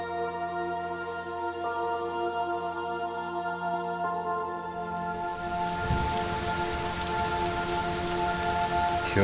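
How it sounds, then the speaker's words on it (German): Rain begins falling in the puzzle video game Superliminal, a steady hiss of drops on surfaces swelling in halfway through over a sustained droning musical tone. "Ich höre Regen."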